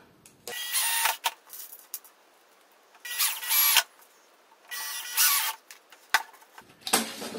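Bursts of a power driver sinking screws to fix rails to a wooden board, four or five whirring runs of about a second each separated by short pauses, close and loud with no talking.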